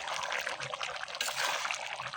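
Water poured into a frying pan of cooking beef trotters, head skin and ears on a clay stove, a soft steady trickle and bubbling hiss, fairly faint and unbroken.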